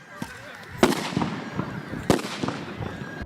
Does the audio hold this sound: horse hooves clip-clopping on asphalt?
no